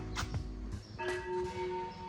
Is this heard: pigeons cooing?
no